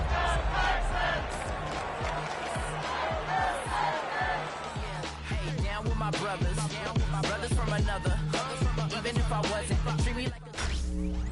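A stadium crowd in a Madden football video game roars and chants continuously, a dense loud wall of voices with rhythmic rising cheers throughout.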